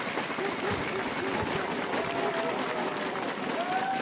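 A large esports arena crowd at a League of Legends LEC Spring Playoffs match applauds and cheers in a steady, dense wash of sound, with a voice talking over it.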